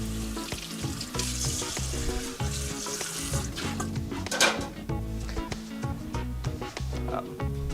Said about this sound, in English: you will notice that the bacon will also come up to temperature and start rendering out fat with it